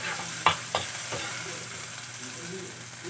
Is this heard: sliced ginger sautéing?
yes